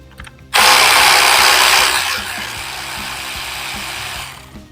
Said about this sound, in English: So let's go ahead and take that bolt out.